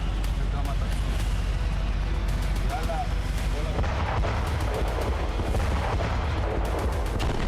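Tank fire and artillery during the war in Gaza rumble as dense, continuous booming with repeated sharp cracks, heavy low-end thunder running throughout and a voice talking over it.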